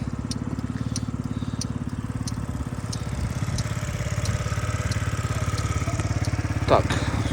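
A Yamaha Jog SA36 fuel-injected scooter engine idles close by, a steady even putter with a fine rhythmic pulse that holds throughout, with a light tick near the end.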